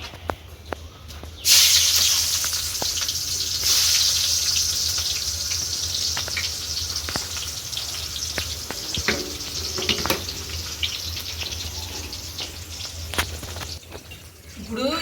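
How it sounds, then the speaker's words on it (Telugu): Onions dropped into hot oil for a mutton biryani sizzle loudly and closely, a sudden burst of hissing spatter that settles into a steady fry with scattered crackles and pops. "నూనె కాగింది ఉల్లిపాయలు ఫ్రై చేసుకుందాం"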